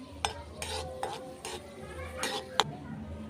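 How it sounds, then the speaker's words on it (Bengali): Two or three dried red chillies dropped into hot oil for a mashed potato dish, giving a soft sizzle broken by repeated spoon scrapes and clinks against the pan, fairly close with no talk. "তেল গরম হয়ে গেছে, এর মধ্যে দিয়ে দিচ্ছি 2-3টে শুকনো লঙ্কা।"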